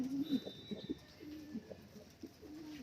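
Racing pigeons coo softly at the loft in a few low, throaty bursts with short gaps between them, and faint chirps sound in the background.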